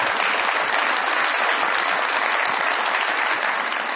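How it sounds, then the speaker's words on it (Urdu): A studio audience at a Pakistani television comedy talk show claps continuously to welcome a politician guest. The dense, even applause stays loud throughout, with no speech above it. "بہت ساری تالیوں میں ویلکم کیجیے گا جناب حنیف عباسی صاحب"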